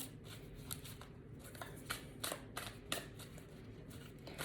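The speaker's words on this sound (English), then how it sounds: "I'm gonna pull a couple more cards for you" Tarot cards are handled, shuffled and pulled from a deck in a series of soft, close papery flicks and light taps, with a faint steady background hum.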